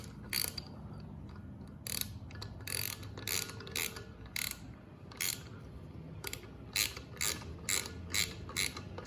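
A valve spring retainer being screwed down while assembling LS cylinder heads from a 4.8 engine, producing a rapid series of close metallic ratchet clicks in short bursts with brief pauses between.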